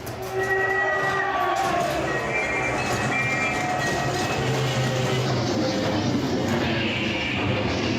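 A train rumbles along the rails with a steady, loud clattering roar, close by and continuous throughout, with a faint crowd murmur underneath.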